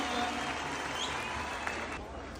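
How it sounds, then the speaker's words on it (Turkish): Crowd applause at an outdoor rally in Cumhuriyet Square, Tokat: a steady, dense wash of clapping and crowd noise from a large gathering, holding at an even level for the whole stretch and easing slightly near the end. "Güçlü alkışlarınızla."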